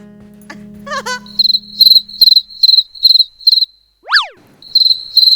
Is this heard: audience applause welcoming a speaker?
no